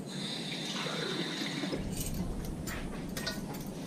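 Water poured in a thin stream onto flour and salt in a bowl for chapati dough, a soft continuous trickle and splash that grows brighter and more splashy partway through, heard close with no voices.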